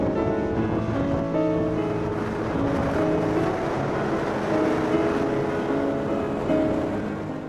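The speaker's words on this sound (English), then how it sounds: "So we wound our trip up on a wild and windy south coast." Steady wind roars over crashing surf on a wild south coast of Australia, a constant, full rushing noise with no voices, loud and close to the microphone.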